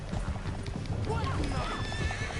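Horse in Red Dead Redemption 2 clip-clopping at a gallop and letting out a whinny, amid loud game noise with people talking over it.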